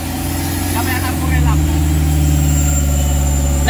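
Isuzu Trooper engine running steadily in fourth gear around 2,000 RPM, a loud continuous mid-pitched drone with a slight swell partway through, with someone talking over it.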